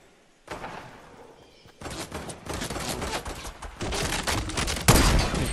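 Rapid bursts of pistol gunfire from a shooter video game, loud and dense, rattling on almost continuously with heavier hits near the end, no talk over it.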